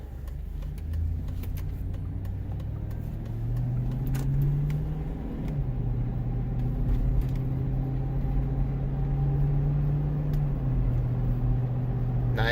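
A 2003 Cadillac Escalade drives along with its 4L65E automatic transmission, fitted with a shift correction kit, shifting smoothly. A steady engine drone rises in pitch and then drops at each shift, heard from inside the vehicle.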